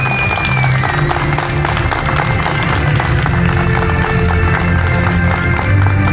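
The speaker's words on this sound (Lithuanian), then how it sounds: "Plojimai, aplodismentai, nuotraukos." Applause at a Mini Rally Šilalė 2025 award ceremony, with dense, steady clapping from a crowd holding at an even loudness throughout, a busy outdoor hubbub mixed underneath.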